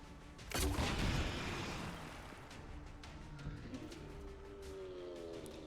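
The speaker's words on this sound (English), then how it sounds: "Hip fire at the Banshee" Hip-fired shot at a Banshee enemy in the strategy game XCOM 2, a single loud booming blast with a long rumbling decay, followed by quieter ambient game sounds.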